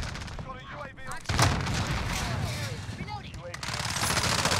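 Assault rifle fire in a Modern Warfare match: rapid automatic bursts with sharp cracks and booms, loud and repeated, while someone talks over the action.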